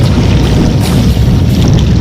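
Choppy sea water and wind along a rocky shoreline where shellfish and oysters are gathered, a loud, dense rushing wash close to the microphone with no voices.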